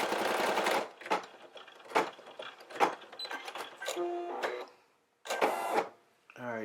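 A Brother SE1900 embroidery machine stitches an Easter basket design in close, rapid bursts of mechanical whirring, broken by short pauses and one full stop.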